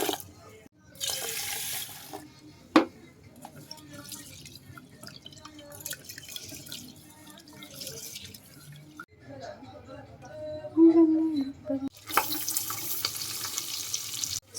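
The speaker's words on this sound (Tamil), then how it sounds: "அரிசியை ஊற வைக்கிறேன்." Tap water runs and drips into a pot as rice is set to soak for chicken biryani in a home kitchen, with bursts of running water at the start and end and quieter trickles and clinks between.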